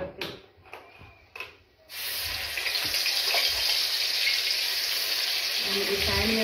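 Panch phoron spices hit hot refined oil, and after a couple of seconds of quiet clatter a sudden loud crackling sizzle sets in and holds steady up close.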